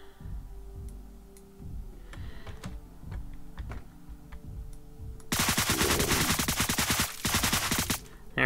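Gunfire in the video game Deadbolt, rapid rattling bursts of shots that arrive loud after a stretch of quieter tapping and clicking game sounds.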